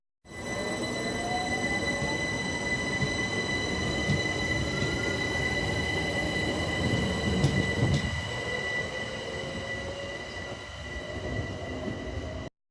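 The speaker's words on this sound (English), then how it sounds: "just show you one more train going out" A train pulls out of Camden Road station on the London rail line, its steady rumble and wheel noise continuous and fairly close, with a rising squeal partway through and no talk.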